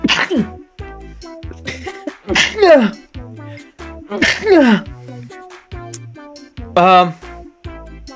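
Several loud sneezes burst out in quick succession, separated by short pauses with breathy, choppy vocal sounds in between.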